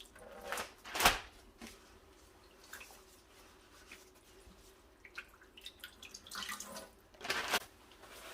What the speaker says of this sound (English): we got all the water out of the sink and down in the drains